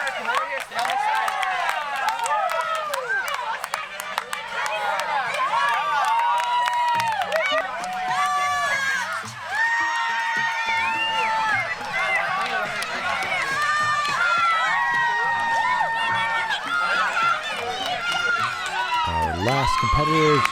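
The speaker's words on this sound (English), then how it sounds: "Everybody's cheering them on, running with them." Spectators cheer and shout encouragement as children finish a 1K Kiwanis cross-country race, a dense continuous crowd roar with high whoops and claps rising and falling over about twenty seconds.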